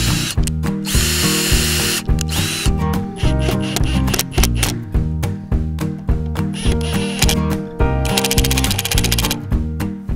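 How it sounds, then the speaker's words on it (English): A power drill whines in repeated short bursts, starting and stopping in a steady rhythm as holes are bored into wood for a wedding arch, close and loud. "I can drill those out."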